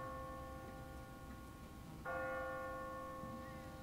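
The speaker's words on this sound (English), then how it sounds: "What kind of church bell goes off at 20 past the hour?" An automatic church bell on a timer in The Walking Dead video game hums faintly with a sustained ringing tone, then a second louder strike joins partway through and keeps ringing.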